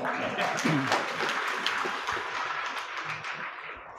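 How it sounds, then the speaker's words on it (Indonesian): An audience at a Maulid commemoration gathering claps together, a rough, moderately loud patter that fades toward the end, with some voices mixed in. "Tepuk tangan lagi dong."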